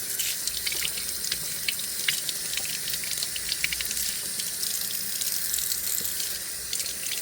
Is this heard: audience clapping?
no